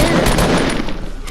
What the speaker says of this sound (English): I literally shoot the rocket launcher at that wall